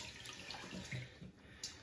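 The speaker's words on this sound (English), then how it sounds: "So you need to rinse it." Running water from a tap splashes over rice as the grains are rinsed by hand in a sink, a steady, close wash with a few brief, brighter splashes.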